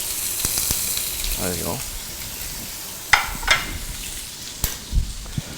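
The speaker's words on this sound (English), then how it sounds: "I'm gonna saute the shrimps." Shrimp sautéing in a pan beside wild mushrooms, a steady close sizzle with scattered pops and stirring clatters, briefly under a short spoken remark.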